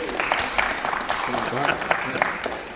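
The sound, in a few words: audience applause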